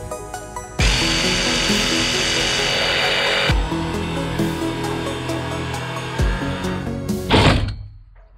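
A jigsaw cuts through a metal roof for a Maxx Air Deluxe fan install, a loud, steady, buzzing rasp that runs nearly continuously with brief dips, then ends in a sharp burst before cutting out.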